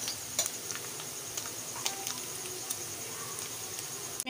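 Chicken mince fries in a pan until it turns white, giving off a steady soft sizzle broken by scattered clicks of a spoon stirring against the pan.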